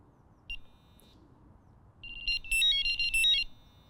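A Nash R4 Siren carp fishing bite alarm gives a short electronic beep, then after a pause a faster burst of warbling high-pitched tones, faint and close with a low vibration buzz underneath.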